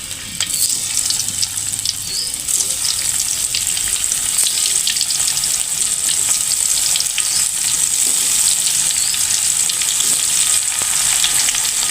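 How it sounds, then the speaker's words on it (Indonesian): Tempe frying in oil in a pan, a steady loud sizzle with occasional stirring scrapes throughout, no voices. "Pan goreng tempean. Goreng tempe."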